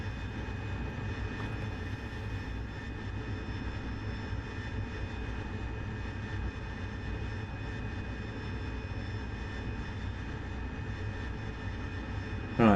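A Harrier jet flies in the DCS World flight simulator, a steady continuous engine roar with a low rumble that holds constant throughout, heard alone without talk.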